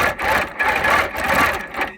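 A long arm quilting machine stitches through a double thickness of batting, a close, buzzing mechanical whir that rises and dips in short bursts and cuts off at the end.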